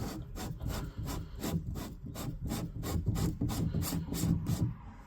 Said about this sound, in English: Loosen the cap.